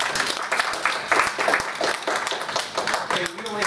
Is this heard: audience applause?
yes